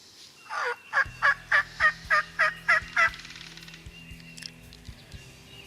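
A wild turkey gobbles in a rapid burst of about eight loud, rhythmic notes, followed by fainter distant calls over a low hum.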